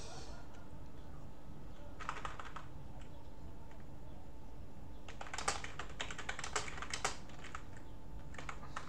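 Typing on a German QWERTZ computer keyboard: bursts of quick, faint key clicks, a short cluster near two seconds and a longer run of rapid strokes from five to seven seconds, over a quiet room hum.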